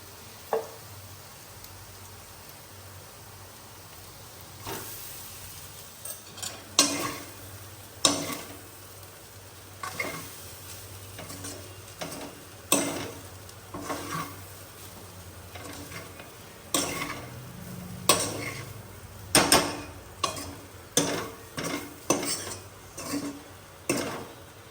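Rice is stirred into cooked potatoes frying in a pan, giving a soft sizzle under irregular clinks and scrapes of the spoon against the pan that bunch into quick runs.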